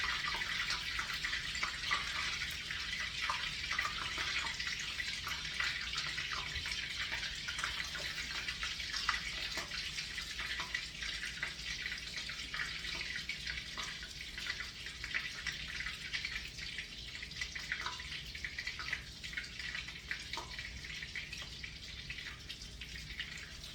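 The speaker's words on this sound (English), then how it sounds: "Why the butter's popping in the oil? There's water in it." Butter containing water sizzling in hot frying oil while meat patties cook, a faint, continuous crackling hiss dotted with small pops and spits, steady throughout with no talk.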